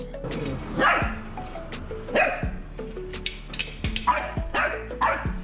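Puppy barking inside a camper van, a series of sharp yips and barks in uneven bursts, fairly close and moderately loud, with quieter whimpering sounds and small clattering noises between them.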